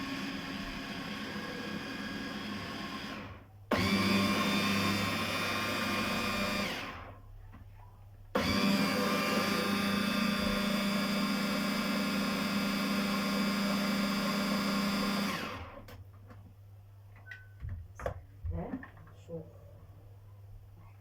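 An electric mixer whirs loudly as it beats a sweet mixture, running in bursts with short pauses, stopping at the end as a voice speaks over light kitchen clatter.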